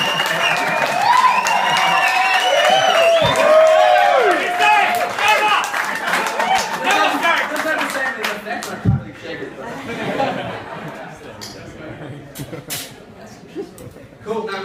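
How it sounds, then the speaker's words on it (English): Applause and cheering from a bar audience at a whisky tasting show, loud and dense at first, then thinning out into scattered claps and chatter. "let's like get a big fucking round of applause"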